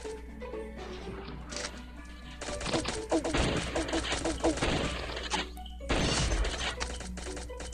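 Rifle fire in the Pixel Gun 3D multiplayer game rattles in bursts over game music and effects, with loud clusters of rapid shots in the middle and again near the end.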